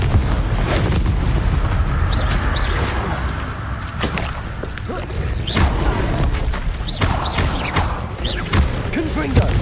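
Confringo blasting spell explosions in Hogwarts Legacy, with loud booming blasts and whooshes that repeat over a dense rumbling combat background.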